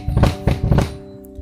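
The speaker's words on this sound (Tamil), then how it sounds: "பட்டாசுலாம் வெடிக்கிறாங்க போல மும்பை இந்தியன்ஸ் ரிட்டன்ஷனுக்கு, தெரில சவுண்டு கேட்குது உங்களுக்கு" Firecrackers burst outdoors during a cricket-team celebration in Mumbai: three muffled, distant pops in quick succession, then a fading low hum.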